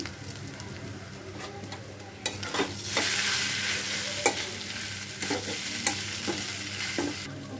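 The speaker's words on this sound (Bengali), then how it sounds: "মাছগুলো আমি এখানে পেঁয়াজের মধ্যে দিয়ে দিচ্ছি" Taki fish stirred into fried onions in a pan for fish bharta: quiet at first, then a sudden rise into a continuous sizzle with sharp spatula scrapes and taps, close up and without voices.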